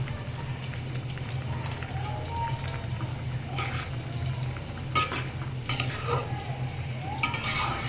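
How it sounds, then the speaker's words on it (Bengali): Potatoes fry with a steady sizzle in a pan, stirred with a spatula that scrapes and clinks in bursts, close and continuous throughout. "আর আলুটাও কিন্তু ভাজা প্রায় হয়ে গেছে, ভাজা হয়ে গেছে"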